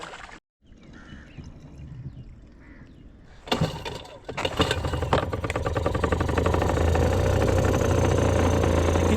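A small 3.5 horsepower fishing boat engine starts up after some clunks and rumbles, then settles into a steady, loud mechanical drone with a low throbbing hum.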